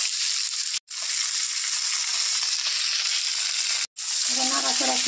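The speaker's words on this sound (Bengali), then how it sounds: "এবার নাড়াচাড়া করে নেব একটু।" Pumpkin and papaya frying in hot oil in a pan, a loud continuous sizzle with stirring, broken by two brief silent gaps, with a few spoon scrapes near the end.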